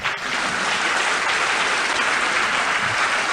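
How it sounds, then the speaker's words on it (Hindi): A seated audience at a business seminar breaks into loud, continuous clapping that stays thick and steady from start to finish. "वैसी तालियां इनके लिए बजा दीजिए आप।"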